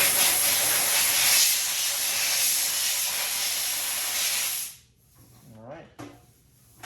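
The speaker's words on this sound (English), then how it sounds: "I'm going to apply just a little bit of air." Compressed air hisses steadily onto a freshly sprayed, glove-wiped dental nightguard, a loud continuous blast that cuts off abruptly, followed by a few soft handling sounds and quiet movement.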